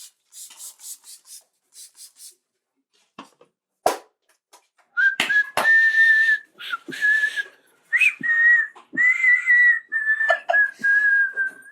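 Scraping and rubbing noises, then a person whistles a lilting tune in several bursts, loud and close.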